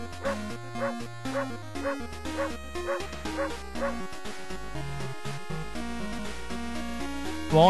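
A dog yips and barks in a video game, a series of short bright barks set over looping game music that plays throughout.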